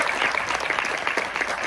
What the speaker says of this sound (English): Ladies and gentlemen, can we give our panelists a round of applause?